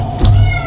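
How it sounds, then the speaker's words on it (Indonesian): A cat gives one short, loud, close meow, lasting under a second. "kucing dah bunyi lah"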